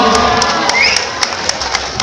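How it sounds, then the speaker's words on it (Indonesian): A crowd at an arts-performance stage event cheers and claps for two volunteers coming up, with a bright whoop and a rhythm of sharp, evenly spaced claps over a busy background. "Beri tepuk tangan untuk mereka berdua."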